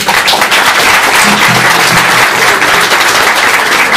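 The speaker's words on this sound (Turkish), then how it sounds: "Bir alkış alabilir miyiz?" Loud, sustained applause from an audience at an informal Turkish folk music gathering, greeting a Turkish folk music choir singer; many hands clap in a thick, steady roar, close and even, with a faint low voice briefly beneath it.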